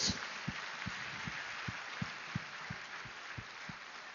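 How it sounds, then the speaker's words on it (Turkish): Concert audience applause as a steady wash of many hands clapping, heard at a distance, with a regular low thumping beat running underneath throughout. "Lütfen kocaman bir alkışla verdikleri destekten dolayı Sayın Büyükelçim"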